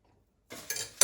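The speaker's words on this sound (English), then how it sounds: "We'll cut them into about 1 inch lengths." A knife cuts potato gnocchi dough on a floured plate, giving a brief burst of light scraping and clinks against the plate after a moment of silence.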